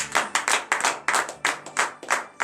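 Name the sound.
congregation clapping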